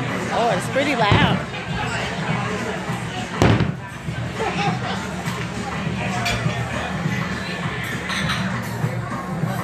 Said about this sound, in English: So we get able to see the fireworks from the actual bakery.